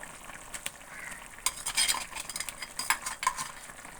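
Fish curry (pulusu) simmering and being stirred in a pan, giving soft bubbling and sizzling with a few light utensil scrapes and clinks, busier in the second half, close by with no talk.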